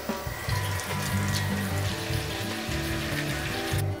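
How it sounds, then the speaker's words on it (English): Water pours and splashes into a tray of pumpkin wedges in a home kitchen, a continuous close-up gurgling stream lasting a few seconds before stopping abruptly. "I'm just going to put a bit of water in here."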